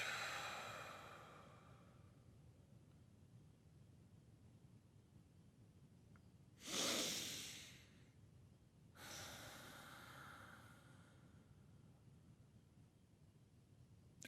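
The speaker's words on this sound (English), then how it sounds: "I'm going to close my eyes, and I am going to breathe in deeply" Slow, deep exhalations during a relaxation exercise, two airy breaths out spaced a couple of seconds apart over soft background hiss, close and fairly gentle.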